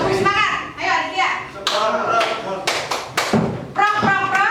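Children in a special-needs school classroom clap together in a rhythmic pattern, sharp claps landing in short repeated bursts close by, mixed with a teacher's voice and children's voices talking and chanting.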